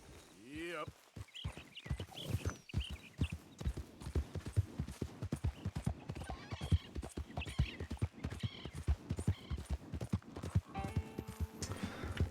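A horse's hooves clip-clop steadily in Red Dead Redemption 2, a brisk rhythmic trot of hoof beats with a short whinny near the start and game sounds mixed in.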